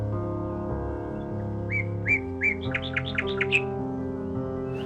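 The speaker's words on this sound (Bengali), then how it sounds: "আর কিছু পাখির ডাক শোনা যাচ্ছিল" Bird calls at a railway station in the early morning, a rising run of bright chirps and whistles that quickens into a rapid series, heard over a sustained low tonal drone.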